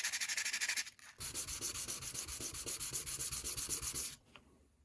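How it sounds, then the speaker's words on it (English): Sandpaper rubbing over plastic parts from an HO scale steam engine model kit, a close, steady rhythmic scratching of quick back-and-forth strokes with a brief pause near the start, alone without talk. "And then take some sandpaper and smooth that out."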